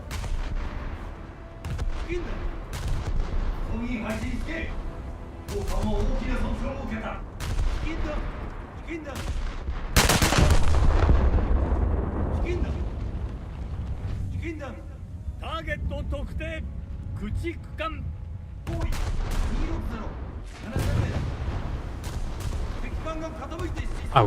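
Battleship secondary anti-aircraft guns firing in a naval video game, with steady rapid popping shots and occasional heavier booms, one large blast near the middle, all under continuous talking from a man.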